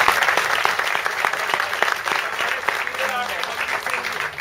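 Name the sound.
audience applause after a play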